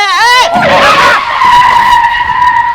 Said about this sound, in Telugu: ఆ స్కూల్ బస్సు ఏదో వస్తుంది కదా